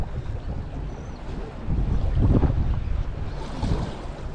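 A boat leaving port onto open water, with wind buffeting the microphone and waves sloshing against the hull.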